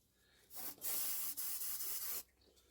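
Maintenance spray hisses from an aerosol can around the spark plugs of a Barford and Douglas engine, a short burst followed by a longer continuous blast of about a second and a half, close up and loud, with no talking.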